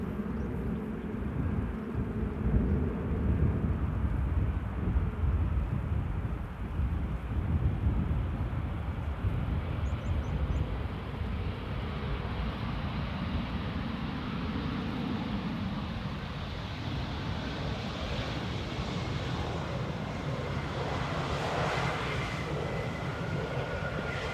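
A KLM airliner in SkyTeam livery lands in rain at Amsterdam. A deep, sustained rumble drifts in the distance, heavy at first and slowly thinning over about twenty-four seconds, with wind and wet background hiss throughout.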